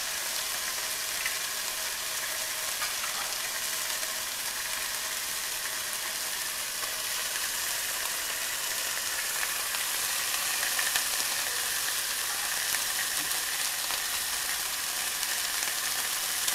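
Food sizzles steadily in extra virgin olive oil in a frying pan, a constant even hiss that stays at the same level throughout with no talking.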